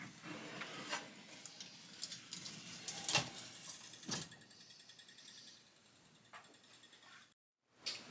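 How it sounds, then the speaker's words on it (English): The motor and pulley under the playfield of a Cyclone pinball machine turn the Ferris wheel, giving a quiet mechanical whir with irregular clicks and ratcheting knocks, close by, then a brief dropout and a final clunk. "There's a motor that turns this pulley, which in turn turns the wheel"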